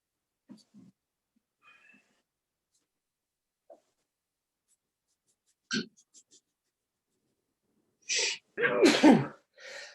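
A sharp sneeze bursts out near the end of a quiet council meeting room, preceded by a faint catch of breath, with scattered small noises and a few soft voices earlier.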